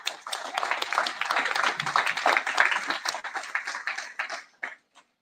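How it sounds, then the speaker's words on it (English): Audience applause greeting Dr. Barbara L. Peacock as she takes the stage, dense steady clapping from a large room that swells and then thins out into a few last claps. "would you please put your hands together and welcome Dr. Barbara L. Peacock"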